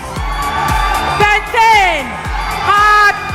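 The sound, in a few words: audience clapping and cheering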